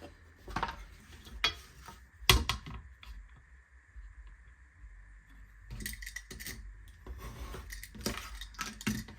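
A narrow strip of card is cut off the end of a board for a linocut registration plate, heard as a few sharp separate snips and clicks spread through an otherwise quiet room with a faint steady hum.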